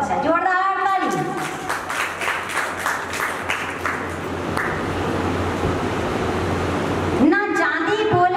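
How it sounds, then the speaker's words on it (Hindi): Loud, sustained applause from an audience at a Jain Paryushan aarti and cultural program in Dilshad Garden, Delhi, a dense wash of clapping lasting several seconds, with a speaker's voice before and after. "बहुत अच्छा, जोरदार ताली"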